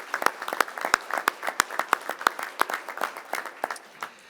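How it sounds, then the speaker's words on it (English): Small audience at a school board meeting applauding in a room, a modest, irregular patter of hand claps from a few people that tapers off after about four seconds. "give those guys a round of applause"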